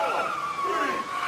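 A limo's engine strains and its tires skid and squeal continuously at close range while a strongman holds the car back, with a steady high whine over the motor.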